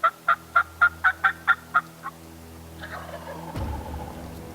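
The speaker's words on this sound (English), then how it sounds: "Calling, gobbling. Every time I called, he gobbled." A wild turkey gobbles outdoors, a clear run of about nine quick rhythmic gobbles that tail off, followed by faint rustling and a low rumble.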